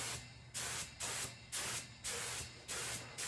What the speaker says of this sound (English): I like to make sure the stickers are all sprayed.